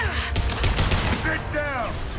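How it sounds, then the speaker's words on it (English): Heavy gunfire from the video game Mass Effect 2, a dense rattling fusillade of overlapping shots lasting a couple of seconds, loud and close, with voices and other game sounds mixed in. "Taking heavy fire!"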